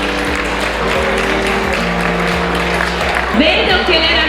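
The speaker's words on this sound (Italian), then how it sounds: "Un applauso!" Audience applause at a beauty pageant selection evening in Pianiga, Venice, a steady clapping wash under background music, with a voice speaking over it near the end.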